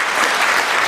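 An indoor audience applauds at a live show, a brief, dense burst of clapping from many hands that holds steady and fairly loud with no voices over it.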